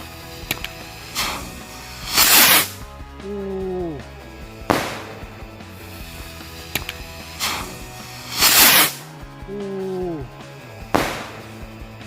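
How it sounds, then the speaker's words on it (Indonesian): A jumbo rocket firework goes off outdoors at New Year, with repeated sharp whooshing bursts and loud cracks recurring in cycles, separated by quieter gaps with faint tonal sounds. "Mercon roket jumbo. Sudah berhasil menyala bosku."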